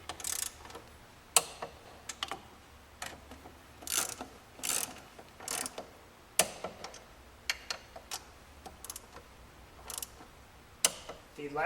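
Clicking ratchet action of a torque wrench snugging alternator pulley bolts on a Volkswagen, a series of sharp, irregular ticks and clicks at close range, no talking.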